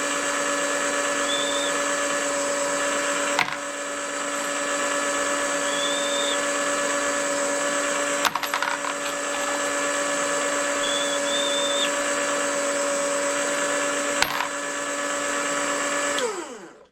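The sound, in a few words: brass prep machine deburring 6.5 Creedmoor cartridge brass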